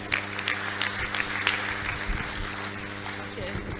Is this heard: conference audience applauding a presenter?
yes